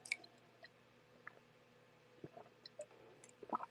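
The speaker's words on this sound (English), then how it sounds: "I'm having a drink of water" A person takes quiet sips of water, with soft wet squishing and swallowing clicks scattered over a faint steady hum in a still room.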